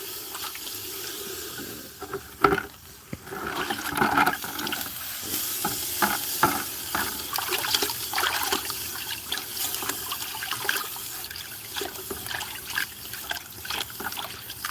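A hot hammer head sits in water, hissing and sizzling with steady bubbling and washing sounds at close range, irregular small splashes and gurgles running throughout with no voices.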